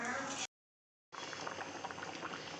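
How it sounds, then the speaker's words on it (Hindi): Fish simmering in curry, left to boil for 10 to 15 minutes, gives a steady, dense bubbling and crackling. The sound stops for a moment, then returns close and continuous. "10 से 15 मिनट मछली उबाल में ऐसे रह गया है, उबालते पानी में देखिए ऐसे।"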